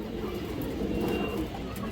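Afsan Bagha pigeons coo in a low, steady murmur that continues throughout, layered over a continuous background of other birds.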